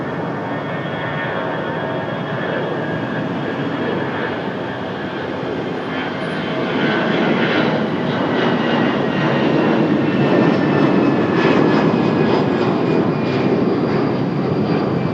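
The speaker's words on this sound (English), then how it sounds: "This is our 23-year-old A319 off to Tampa." A 23-year-old Delta Airbus A319 departing Raleigh-Durham for Tampa, its loud jet engine roar building partway through and staying strong and close to the end, with no one speaking.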